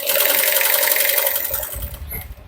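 A sewing machine stitches a bag lining in a steady, loud, fast whirring run that slows and fades near the end, with no talk over it.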